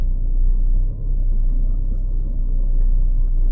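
A 1974 Valiant's engine idles steadily, a loud, close, continuous low rumble with a brief dip near the start and no voices.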